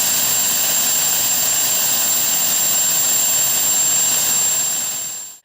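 A space shuttle rocket launch on its final liftoff: a loud, steady, wide-band roar that holds for several seconds, then drops away abruptly at the end.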